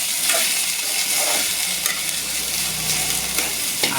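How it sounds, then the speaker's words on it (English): Okra (ladies finger) fries on a high flame, giving a steady, close sizzle with brief stirring scrapes throughout. "You can first fry like this."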